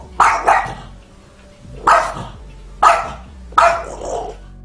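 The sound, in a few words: dog barking angrily at a cat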